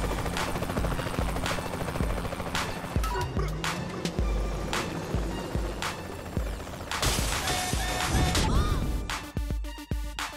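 Helicopter rotors thump steadily in the foreground in the video game Saints Row: The Third, with sharp bursts of gunfire cutting in repeatedly and a metallic rattle near the end.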